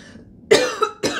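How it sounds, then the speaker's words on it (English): A woman gets ready for a commercial audition and coughs: two short, harsh bursts close to the microphone, with no speech around them. "Oh my god, I'm going in a coughing fit."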